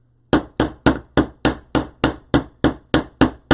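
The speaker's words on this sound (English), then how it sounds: "So I'm going to have to hammer that like I typically do." A small pink hammer drives staples into a 12-inch wreath frame in eleven sharp, evenly spaced strikes, loud and close, each blow ringing briefly before the next, with no talking.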